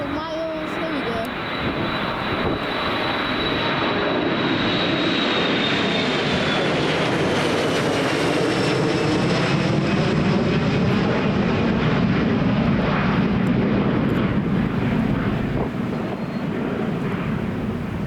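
A Jet2 Boeing 737-300 jet roars loudly and steadily for the whole stretch, a broad engine rumble with a thin whine that slowly falls in pitch, with no voices.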